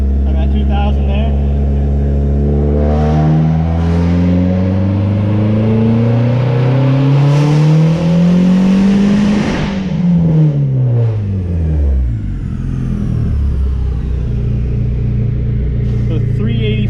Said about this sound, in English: we're going to do a third gear pull to make sure my air fuels are where it should be